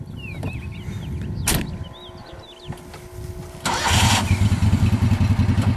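A few clicks and knocks, then a 2007 Cub Cadet Volunteer 4x4 utility vehicle's Kohler 20 horsepower V-twin gas engine cranks, catches, and settles into a steady, close rumbling idle.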